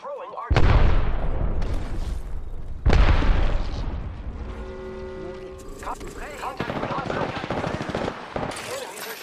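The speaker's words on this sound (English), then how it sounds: "Enemies are shooting at me." Rapid machine-gun bursts and heavy booming shots from a video game firefight, loud and close, with short pauses between volleys and a voice speaking over parts of the action.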